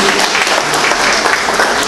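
Steady, dense applause from a community audience at an itinerant city council session held on a rainy night, loud and continuous throughout with no gaps.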